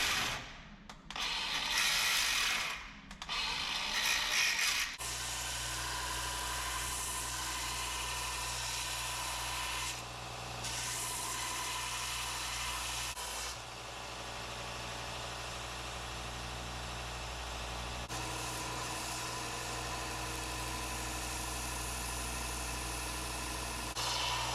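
A belt sander shapes the handle of a hand-forged Damascus curved Bowie knife, a continuous whirring drone with several scraping, louder bursts as the workpiece presses against the belt, close and steady throughout.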